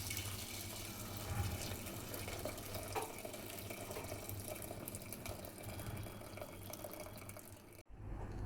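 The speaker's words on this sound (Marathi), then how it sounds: "त्याच्यावर एक जाळी ठेवायची आहे आणि त्याच्यावरती हे पाणी जे आहे ते आपल्याला गाळून घ्यायचं आहे." Hot herbal water is poured through a sieve into a large vessel, making a steady splashing, trickling stream that runs continuously before stopping abruptly.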